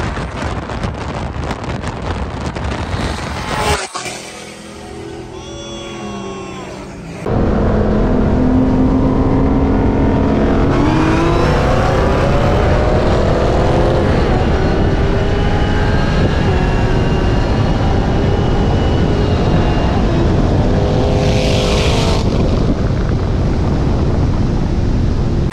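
Dodge Hellcat and Chevrolet ZL1 race side by side, with loud, sustained engine roar and rushing wind that cuts briefly and then returns, rising in pitch as the cars accelerate hard.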